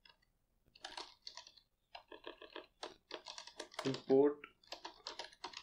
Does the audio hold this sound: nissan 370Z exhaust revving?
no